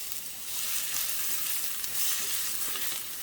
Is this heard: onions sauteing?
yes